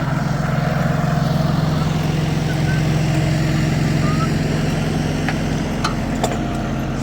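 A tractor engine runs steadily to power a hooked-up wood splitter during firewood work on a cold day, giving a constant low, close rumbling hum with no change in pace.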